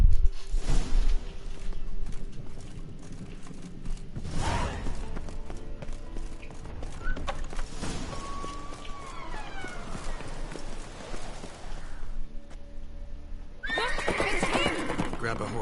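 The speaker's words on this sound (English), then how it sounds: "Grab a horse, we'll chase him down." A horse neighs and hooves clop in The Witcher 3, the whinny ringing out near the start amid footfalls, with later galloping and shifting background game sounds.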